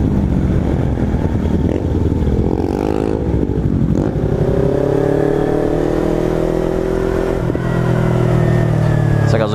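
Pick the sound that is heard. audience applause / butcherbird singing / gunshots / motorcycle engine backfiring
motorcycle engine backfiring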